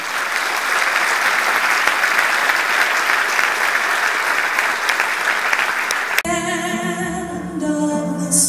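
Dense, steady audience applause fills a hall before a men's choir anniversary concert, holding for about six seconds before cutting abruptly to music.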